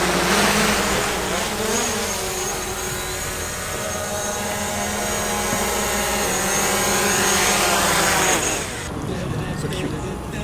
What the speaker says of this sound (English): The drone come out.